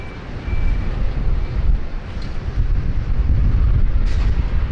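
A QantasLink Boeing 717, also called the DC-9 Neo, takes off from Sydney Airport with a steady low, wind-buffeted jet roar, heard from a distance with no talk.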